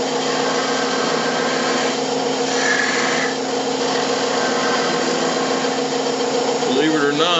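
A skew chisel shears the last nub off a wooden toothpick holder spinning on a lathe, a steady close scraping hiss over the lathe's continuous hum.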